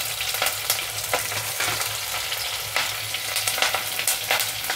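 Chopped carrot pieces sizzle steadily in oil with curry leaves in a pan for a carrot, chickpea and potato masala curry, with scraping stirs cutting through the constant close frying hiss.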